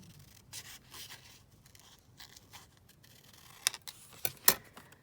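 Scissors snipping paper for a junk journal, quiet rubbing and soft cuts building to a few sharper snips near the end, close and alone.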